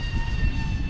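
Diatone Ripper R690 FPV drone on 5S power at full throttle, a steady loud motor whine with sharp high tonal bands over a rumbling low roar, sustained and close throughout.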